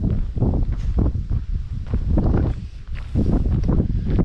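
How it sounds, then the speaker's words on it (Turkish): Wind blows across a quiet, remote hilltop in Yalova, roaring and buffeting the microphone in uneven gusts that swell and ease throughout, with no talking. "Havada püfür püfür efil efil esiyor yemin ederim."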